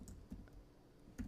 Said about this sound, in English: I'm on my keyboard.